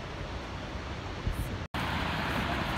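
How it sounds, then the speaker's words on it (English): Gullfoss waterfall in Iceland in December roars as a steady, dense broadband rush, loud and continuous, with a brief dropout midway and wind buffeting the microphone. "There it is. Gullfoss Waterfall."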